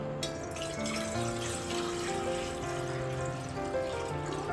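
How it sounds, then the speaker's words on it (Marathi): Water pours steadily into a cooking pot, a continuous close splashing stream with a faint ringing tone rising as the pot fills. "तर त्याच्यामध्ये आपण पाणी टाकून घेऊया"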